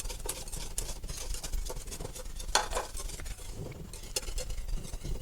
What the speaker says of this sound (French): Et maintenant, portez l'ensemble à ébullition, sans cesser de remuer.